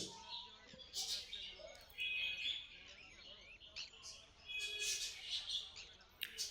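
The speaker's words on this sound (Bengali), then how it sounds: "এক ঝাঁক বদ্রি পাখি এখানে" Many budgerigars chirp and twitter at once in a bird market, a busy, fairly faint flock of rapid high tweets with murmuring voices in the background.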